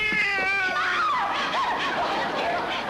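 A cat meows in a long, wavering, drawn-out cry that bends downward, loud and close over faint background murmur, in a period television comedy scene.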